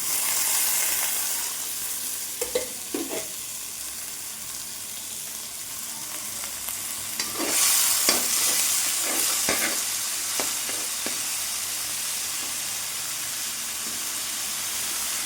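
Garlic, curry leaves and ginger frying in hot oil for a toddy-shop boti curry, a steady close sizzle with occasional stirring scrapes and clicks, no voices.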